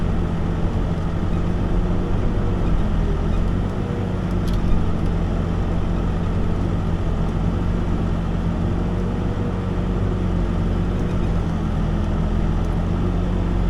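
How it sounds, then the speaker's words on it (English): Road traffic passing a church construction site where a crane lifts a rebar cage, a continuous heavy rumble of vehicles close by with a low engine drone and no pauses. "pretty exciting out here with all the traffic we got going on"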